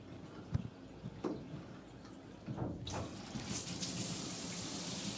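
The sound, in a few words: hotel rainfall shower running water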